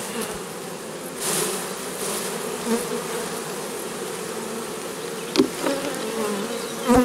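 Honeybees buzz steadily and close by during a honey harvest, where combs are swept free of bees with a brush and the honey extracted at home; the dense hum holds throughout with a few brief knocks and thumps.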